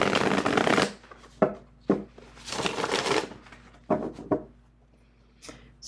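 Tarot cards are shuffled in several quick riffling bursts, each a crisp papery flutter separated by short pauses, close and alone.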